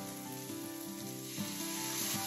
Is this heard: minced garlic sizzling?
yes